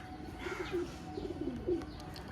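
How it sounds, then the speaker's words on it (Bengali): Soft, low tippler pigeon cooing repeats in short rolling phrases, fairly close, over a steady background hum. "অরিজিনাল টিপলার পায়রা দারুণ কোয়ালিটির জিনিস"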